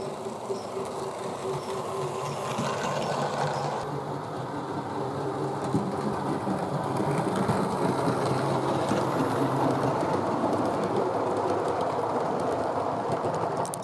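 A scratch-built K4 model locomotive built in 1982 runs on its motor with a steady, close whirring rumble and rail clatter, continuous and moderately loud throughout, with no talking.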